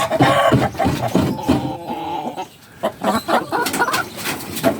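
Ten-month-old Rhode Island chickens cluck and squawk busily while pecking at coconut, loud and close, a flurry of calls with brief lulls.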